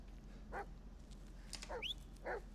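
A dog in the horror video game Blair Witch gives a few short, faint yipping barks, spaced apart over a quiet background.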